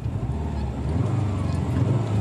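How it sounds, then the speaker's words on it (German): A Subaru Impreza WRX engine idles low and rumbling, then is given a short blip of throttle as the tone climbs slightly, heard close with some voices in the background. "Wenn du jetzt mal kurz Gas gibst, Andi."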